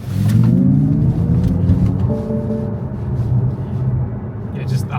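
A Xiaomi SU7 MAX electric car accelerating hard, giving a steady loud rumble and whine of road and motor noise that runs throughout, with people talking over it.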